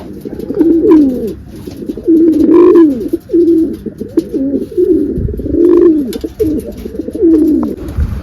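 Repeated low, throaty pigeon coos rolling in close succession, loud and near, with a few faint chirps in the background.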